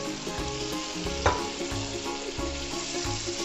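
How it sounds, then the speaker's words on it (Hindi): Chana dal frying in a pan for a dhaba-style dal fry, a steady dense sizzle throughout with one brief clatter of a utensil, close and continuous, no talking. "और अब हम दाल को फ्राई करेंगे"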